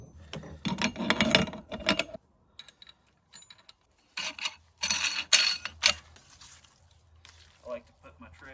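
A meat grinder works venison mixed with herbs, spices and seasonings into sausage, its mechanical whirring and grinding coming in loud bursts with short pauses between them.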